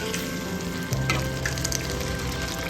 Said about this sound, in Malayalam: നമുക്ക് കുറച്ചുകൂടി വെളിച്ചെണ്ണ കൊടുക്കട്ടോ. നമുക്ക് അതൊന്ന് ഒന്നുകൂടി ഇളക്കി യോജിപ്പിക്കാം കേട്ടോ.